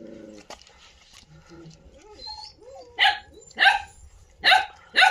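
Young, newly teething puppies whimper in thin high cries, then let out a run of four sharp, close yelping barks.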